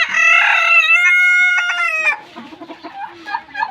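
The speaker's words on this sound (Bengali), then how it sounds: "দেখেন এগুলোর ডাকও কিন্তু দেশি মুরগির মতো খুবই সুন্দর ডাক দেয়" Silkie chickens call loudly and close by, a drawn-out harmonic crowing cry followed by a run of shorter, softer clucks.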